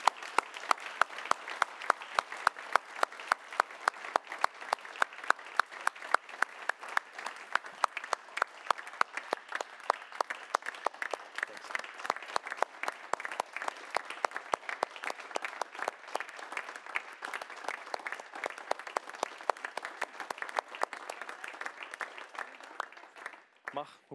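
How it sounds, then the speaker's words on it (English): An audience at a medal ceremony honouring a late politician's legacy claps for over twenty seconds, starting as crisp, fairly synchronised rhythmic clapping that loosens into a steady, moderately distant round of applause before tapering off. "So maybe I can just ask you to join us in a big applause for the legacy of Hans van Baalen"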